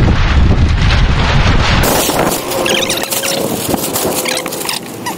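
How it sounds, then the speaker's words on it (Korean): Strong headwind at a campsite buffets the microphone with a heavy low rumble, then eases into gusty rushing noise with faint flapping and squeaks of fabric. "지금 바람이 거의 이게 역풍이 부니까 날아가려고 하네요."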